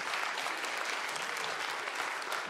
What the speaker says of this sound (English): So let's give it a big hand of applause to our new family members.